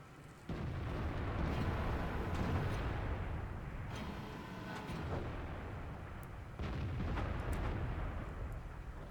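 Tank cannon fire and explosions in a World of Tanks style battle involving an Aufklärungspanzer Panther and an IS-3, a dense run of booming blasts and rumbling bursts with no talk.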